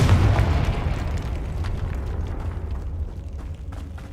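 A Confringo fire spell explosion in Hogwarts Legacy, a loud deep boom that rolls into a long crackling rumble and slowly fades.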